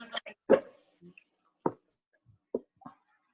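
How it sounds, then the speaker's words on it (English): A dog barking indoors, with a few short, sharp barks and yips scattered irregularly through a quiet room, fairly close and moderately loud. "Sorry, it's my dog."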